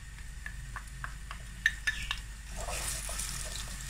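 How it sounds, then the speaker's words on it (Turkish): A utensil scrapes and taps against a pot several times, then a soft sizzle of onions cooking in oil rises and continues. "Soğanı güzelce kavuralım."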